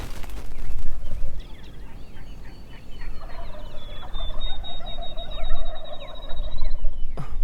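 Wild Rio Grande turkeys gobble repeatedly in rippling bursts on Oklahoma public land in spring, over steady outdoor background noise, with a high whistling tone rising through the middle.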